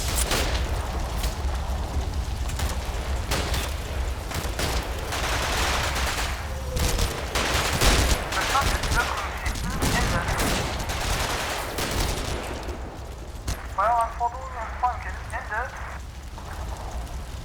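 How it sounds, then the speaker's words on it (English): Sustained gunfire from the WWII Normandy combat video game Combat Mission Battle for Normandy, dense crackling volleys and bursts running throughout, fairly loud with a voice talking over parts of it. "A lot of shooting, not a lot happening."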